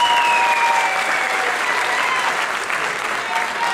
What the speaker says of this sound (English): Round of applause for Simran Rajani.